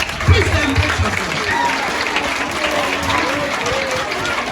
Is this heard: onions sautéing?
no